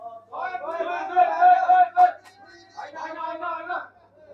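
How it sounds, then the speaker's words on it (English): Capital Dragons team members cheer for their two batsmen at a TNCA T20 League cricket match, a group of voices rising in loud, sustained chant-like bursts with a brief pause between them. "we've got the Capital Dragons team here cheering for the 2 batsmen out in the field"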